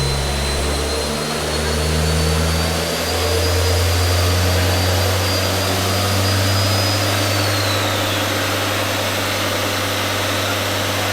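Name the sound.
turbocharged Audi TT 1.8T engine running on dyno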